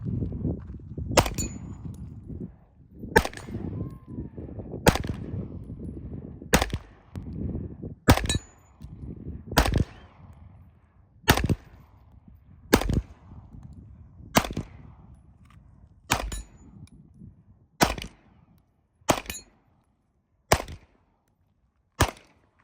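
Gunfire at an outdoor shooting range: about fourteen single sharp shots spaced a second or two apart, loud and close. Low background rumble and activity fill the first half, and the later shots ring out over near silence.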